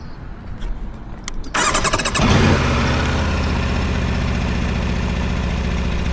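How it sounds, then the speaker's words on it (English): A brand-new, stock Aprilia RSV4 Factory sport motorcycle starts up after a few clicks, then idles loudly and steadily close by with a rough, buzzy rumble. "for this being a stock brand new bike, it sounds good"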